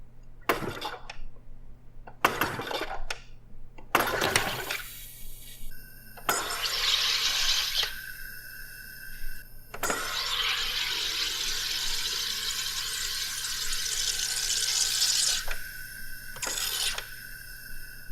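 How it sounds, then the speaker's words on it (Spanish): Gas hisses into a bottle to carbonate water, arriving in several short bursts and then a long, sustained hiss. Faint clinks and handling noises sit between the bursts, and no one speaks. "simplemente presioné el botón y el gas de diamante comenzó a introducirse en la botella"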